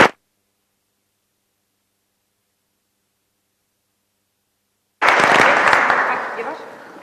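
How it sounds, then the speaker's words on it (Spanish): Applause from an audience at a Spanish socialist party members' forum in Teruel, breaking out suddenly after a long silence, dense and loud at first, then gradually fading. "démosle un fuerte aplauso a Javier Lambán, secretario general y presidente del Gobierno de Aragón"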